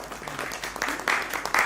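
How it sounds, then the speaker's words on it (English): Scattered clapping swells into a short round of applause for the women at an empowerment event, with a few louder claps and faint voices underneath. "let's give them a big round of applause"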